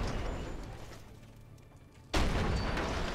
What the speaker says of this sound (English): You don't need to throw a train car at me.